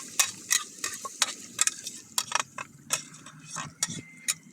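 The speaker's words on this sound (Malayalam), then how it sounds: "നെയ്യ് പൊരിച്ച ബീഫാ. ഓയിലില്ല." Beef frying in ghee at a street food spot in Salalah, Oman, heard as rapid metal scraping and clacking strokes in an uneven rhythm over a low sizzle, close and moderately loud.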